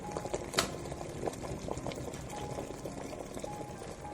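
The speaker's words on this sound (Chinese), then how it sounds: "盖上盖子将它煮开，煮个10分钟左右就差不多啦" Pork and mushrooms simmer in a covered pot, a soft continuous bubbling with small irregular pops and a faint rattle, quiet and close throughout.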